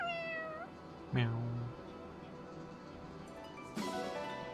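A cat meows in a video game, two or three distinct meows with rising and falling pitch, fairly clear over a quiet background, with no talking over them.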